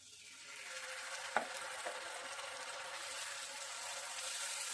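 Tomato paste goes into well-fried masala for katla fish kaliya. It gives a soft, steady sizzle that swells slightly, with one light knock of a utensil near the start and no voices.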